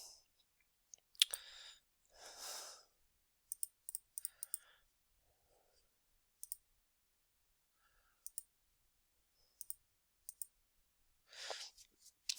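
Keys tapped on a keyboard while entering numbers, sharp isolated clicks in short irregular bursts separated by near silence, with a few soft breathy sounds between them.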